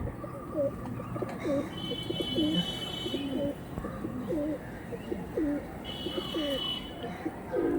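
Andhra Kalsira pigeons coo in repeated rolling phrases, steady and fairly close, with faint higher chirps in the background.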